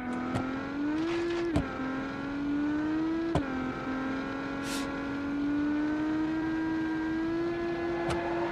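A very light, 450+ km/h car in the Automation 4.2 video game holds a sustained, revving engine drone, broken by a few sharp gear-shift clicks, without talk.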